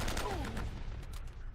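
Automatic gunfire in the video game Uncharted: Drake's Fortune, a dense burst of rapid shots at the start that fades into a busy, noisy battle backdrop.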